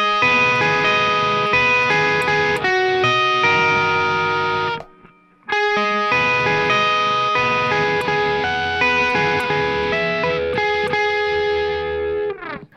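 Distorted electric guitar plays a song part an octave higher up the neck, a bright, driving riff that stops for a brief gap near the middle, then resumes and rings on, loud and alone.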